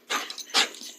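A pet dog gives a couple of short, excited barks while waiting for a ball to be thrown, close by and fairly loud with brief pauses between them.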